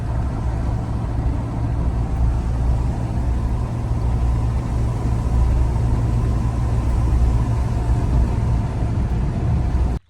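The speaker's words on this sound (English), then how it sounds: "I thought maybe I'd hear some more road noise, but right now they're super quiet." Cabin road noise from BF Goodrich KO3 tires on a 2022 Chevy 2500 truck with 275/65 tires on 20-inch rims, a steady low rumbling drone with faint wind, unbroken and without talk.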